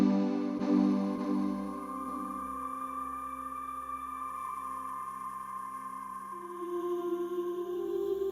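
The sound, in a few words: singing sand dunes, vibrating choir-like hum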